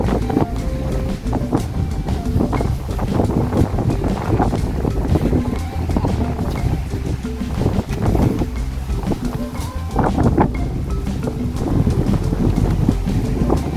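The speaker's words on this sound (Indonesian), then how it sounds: "semilir angin yang luar biasa enaknya berhembus" Outdoor wind gusts steadily against the microphone near a lake in a rainforest, a continuous loud rushing and buffeting with no talking throughout.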